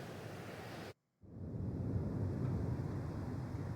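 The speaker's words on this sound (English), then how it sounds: "A gust of dry wind pushes us inside the tower." Dry wind gusting in the video game Harmony: The Fall of Reverie, a broad steady rush that cuts out briefly, then returns fuller and sustained with a faint thin whistle above, no voices present.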